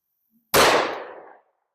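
A single loud, close gunshot from a 1911-style pistol firing .357 SIG DoubleTap 77 grain lead-free ammunition, a sharp blast that decays over nearly a second, with no voices.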